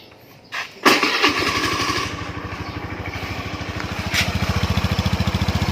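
Honda Scoopy i motorcycle with an engine that burns oil and bogs at speed, starting up after a brief crank and settling into a loud, close, rapid putter that grows slightly stronger.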